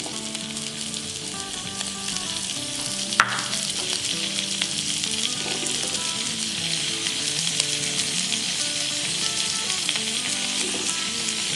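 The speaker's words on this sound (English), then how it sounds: "We're about ready on our pancetta, so we're gonna add our veggies into the skillet." Asparagus and pancetta sizzle in butter in a skillet, a loud even frying crackle carrying on steadily, with one sharp clink early on and no talking.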